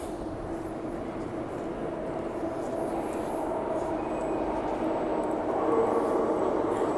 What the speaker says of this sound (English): And we have our Midland train coming in.